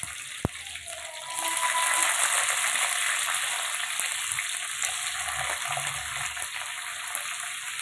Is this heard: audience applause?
no